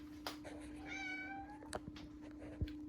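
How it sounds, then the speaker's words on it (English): A house cat gives a drawn-out rising and falling meow near the microphone, with a steady electrical hum and a few knocks around it, no talking. "There's my cat."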